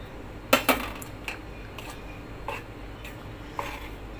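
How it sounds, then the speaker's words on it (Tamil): A spoon stirs powder into melted jaggery in a pan while preparing Diwali legiyam, giving a few light metallic scrapes and clinks against the pan that are close, fairly quiet and irregular, with no talking. "இதில் வந்து இப்போ வந்து நான் இந்த பொடியை போட்டு கிளற போகிறேன்."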